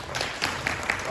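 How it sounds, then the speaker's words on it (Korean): An audience claps briefly at a culture forum in a hall, a dense short burst of applause with a voice faintly mixed in. "여러분 박수 한번 주세요."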